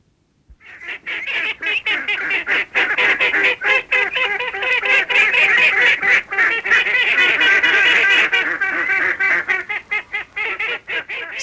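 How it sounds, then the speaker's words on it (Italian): A noisy flock of ducks quacks and squawks continuously, overlapping raucous calls forming a loud, dense chorus close by. "Schiamazzo di anatre."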